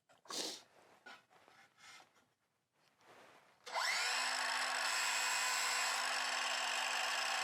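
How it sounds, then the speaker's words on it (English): A circular saw cutting wood: after a few quiet handling knocks, the saw starts with a sudden burst into a loud, steady, high motor whine that holds close and constant to the end. "pick the saw up, and you have to be ready because the saw is going to want to kick back this way"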